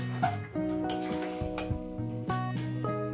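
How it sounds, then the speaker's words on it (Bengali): Potatoes being sautéed in a hot pan while cooking young jackfruit with goat fat: a steady sizzle with occasional stirring scrapes, heard close and fairly loud with a tonal musical layer running underneath. "আলু আর চোখ আরও আমি তিন মিনিট করে কষবো"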